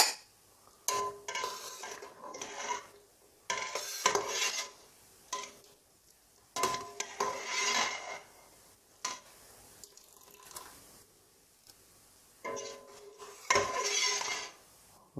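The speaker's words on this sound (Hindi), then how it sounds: "आलू बुखारे जो हैं वो मैं एक प्लेट में निकाल लूँगा" Cooked plums, mostly broken up, being moved from a pan onto a plate, with scattered clinks and scrapes of a utensil on metal and ceramic in short bursts between quiet pauses.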